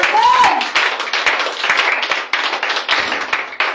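A congregation claps and applauds in a French-language church worship service. The clapping is dense and sustained with irregular louder bursts, and a brief vocal cry rises near the start.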